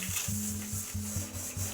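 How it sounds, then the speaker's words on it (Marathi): A cooking pot for chicken dum biryani is scrubbed by hand, with close, steady rhythmic rubbing strokes repeating about every few tenths of a second over a soft hiss. "मी पातेलं घासून ठेवते बिर्याणीला."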